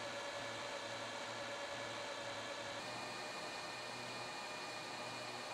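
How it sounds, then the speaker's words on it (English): Airflow roars steadily from the dual fans of a homemade 12V space heater with two heating elements, a constant broadband whoosh with a low motor hum, close and loud, with no talking. "That gives you a real good shot of the airflow coming out of this thing."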